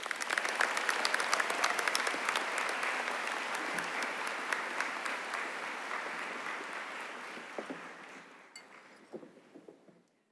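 Sustained audience applause and scattered cheers at a high school commencement ceremony, dense and steady for most of the span, then thinning out with a few last claps at the end.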